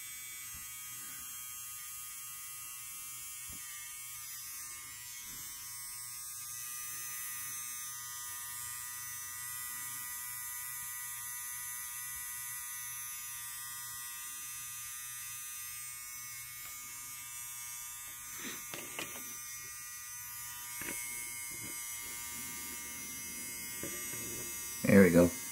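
An Anvava USB rechargeable nose hair trimmer runs with a steady, faint high-pitched electric buzz, close to the microphone, with a few small handling noises near the end.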